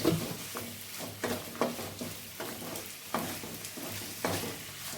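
Fresh coriander leaves frying in hot oil in a pan for chutney, a soft continuous sizzle broken by periodic scraping stirs of a spatula, close and moderately quiet, with no talking.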